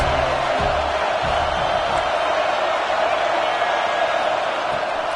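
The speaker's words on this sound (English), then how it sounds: "Big 3rd down as the crowd gets behind this defense." Stadium crowd roaring and cheering during a college football video game on a big third down, a steady dense wash of noise with some low murmur, sustained throughout.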